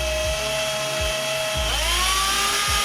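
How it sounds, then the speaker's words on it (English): A power drill bores through a door to fit a KPP smart fingerprint lock, giving a loud, continuous whine that climbs in pitch as the bit speeds up partway through. Low knocks recur under the whine. "Let me grab the drill."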